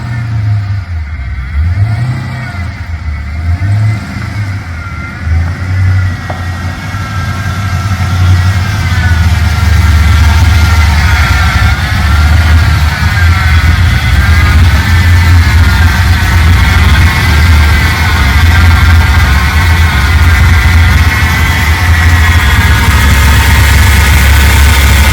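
A freshly rebuilt Holden VT Clubsport V8 fires up and runs loud and close, settling into a steady rumbling idle with rising revs and a constant engine drone throughout, no voices.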